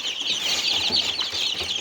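A flock of 15-day-old Australorp chicks on a farm peeps and clucks in a dense, continuous chatter, close by and steady throughout with no voices.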